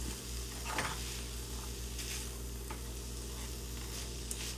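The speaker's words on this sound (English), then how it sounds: "I'm gonna toss it all together just like that" Fried rice tossed in a pan, a continuous loud sizzle with a few soft scraping and shuffling bursts as the rice shifts, close up with no voices.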